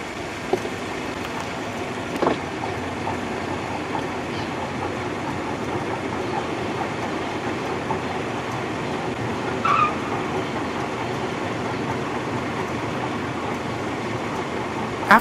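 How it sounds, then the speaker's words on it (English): Special train led by N&W 2156 crossing the Scioto River bridge at night, a steady rumble of rolling cars with faint clatter and a few sharp clicks, heard from a distance and continuous throughout. "got to watch as the special train then crossed the Scioto River."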